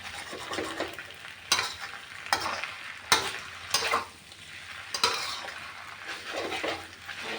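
Wide rice noodles with sliced pork and soy sauce being stir-fried in a pan, with a steady sizzle broken by repeated scraping strokes of a spatula every second or so, close and moderately loud, no talking.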